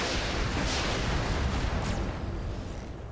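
Mech weapons fire in the BattleTech game with the RogueTech mod, a loud, dense barrage of booming blasts and explosions rolling together, then a sharp whooshing burst before the noise fades slightly.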